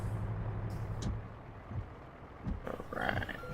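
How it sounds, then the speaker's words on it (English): The diesel engine of a semi truck in American Truck Simulator, on a rainy day in the game, cranks over and rumbles to life with a low, rough roar, then a hiss and a clatter follow. "Let's turn the truck on."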